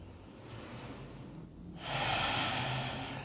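Slow, deep breaths drawn by a person during a grounding, earth-inspired beginner yoga flow: a soft airy inhale, a brief pause, then a louder, fuller exhale close by, with no talking.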